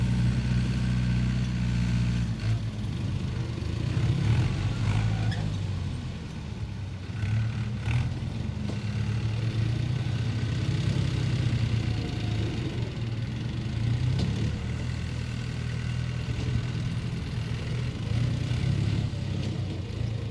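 A New Holland diesel tractor engine rumbles steadily at idle, a low continuous throb with slight variations in pitch, running alone without voices.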